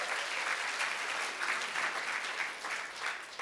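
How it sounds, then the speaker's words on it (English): An audience at a marketing presentation applauds in a steady, dense wash of clapping throughout, with no one speaking over it. "Come on, you guys should clap your hands."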